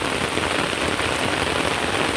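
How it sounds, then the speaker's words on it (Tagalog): Heavy rain pouring down at a botanical orchid garden in Singapore, a dense, constant hiss of drops hitting leaves and ground, loud and close, with no voices. "Lakas ng ulan."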